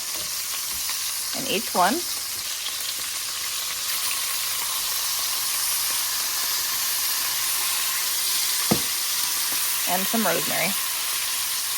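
Butter sizzles with a steady, even hiss in a cast-iron pan holding tomahawk steaks, while a person talks briefly over the frying.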